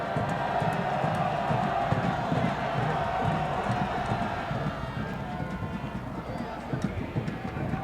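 Stadium crowd at a 2014 USL Pro playoff soccer match between Orlando City SC and Harrisburg, a steady dense roar of cheering and noise that stays loud throughout.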